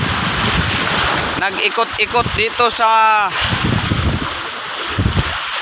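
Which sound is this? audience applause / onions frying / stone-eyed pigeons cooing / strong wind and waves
strong wind and waves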